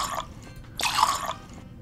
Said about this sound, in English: Top it with some more cold milk.